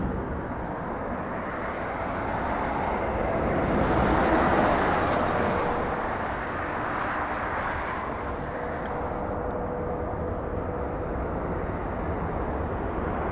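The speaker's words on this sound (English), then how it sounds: "Delta 737 getting a move on" A Delta Boeing 737 moving at Los Angeles International Airport, a steady broadband jet roar that swells around the middle and then holds at a constant level, heard from a distance with no voices.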